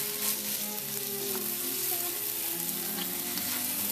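Beef and tomatoes frying together in a pan for a fish-sauce pasta stir-fry, giving a steady, close, continuous sizzle with no pauses and no voices.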